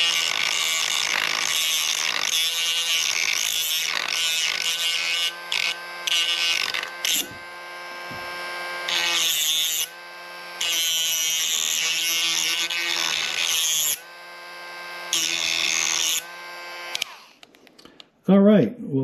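A power tool rounds over an edge on a model car build for a Monte Carlo, buzzing loudly in long steady bursts with short pauses between passes, close up.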